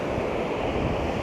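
Sea waves at Kamakura beach in Japan give a steady broadband wash of surf mixed with wind rumbling against the microphone, continuous and fairly loud, with no speech.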